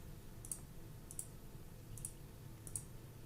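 Sharp mouse or key clicks while picking spreadsheet rows one by one with the control key held, four faint, evenly spaced clicks over a low steady hum.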